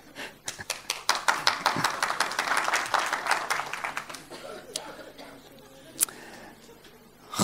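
Dense clapping from a lecture audience swells for a few seconds, then thins into scattered claps and murmurs before a final lone clap and a sudden bump.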